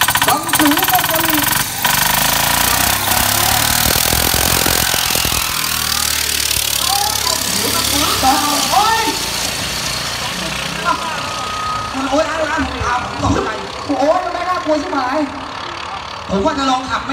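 A Kubota single-cylinder 800cc turbo engine fitted to a farm cart runs with a rough, throbbing note, loud and close, while people talk over it.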